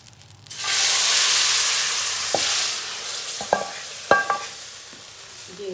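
Chopped onions sliding into very hot oil for chicken haleem, a sudden loud sizzle that settles into a steady frying hiss, with a few sharp clinks of a utensil against the pot near the end.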